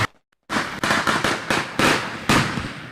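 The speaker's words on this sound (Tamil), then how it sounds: "பட்டாசு மலை ஒலிக்கின்றது." Firecrackers burst at a cricket match in the All Star Trophy quarter final: a string of loud, sharp cracks goes off in quick, uneven succession after a brief silence.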